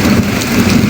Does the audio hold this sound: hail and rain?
yes